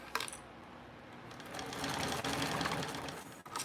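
A sewing machine runs a short back stitch along a seam sewn 1/8 inch in, a fast steady mechanical whir at close range that briefly pauses and resumes, with no talking.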